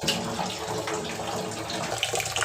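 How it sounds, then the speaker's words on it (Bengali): Rice is washed under running tap water, with a steady close gush and sloshing in a pot that continues evenly throughout without speech. "আমি চালটা সুন্দরভাবে ধুয়ে পরিষ্কার করে নিই।"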